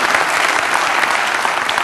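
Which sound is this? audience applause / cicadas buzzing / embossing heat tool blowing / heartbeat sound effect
audience applause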